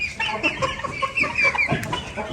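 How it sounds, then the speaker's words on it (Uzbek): Hens and chicks cluck and cheep steadily and fairly close, a busy overlapping chatter of short calls with no talking over it. "Yaxshi jo'jalar bor"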